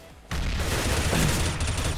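Gunfire in the video game Counter-Strike: Global Offensive breaks out suddenly and loudly, then continues as a dense, sustained burst of rapid shots up close for the rest of the clip, with no voices.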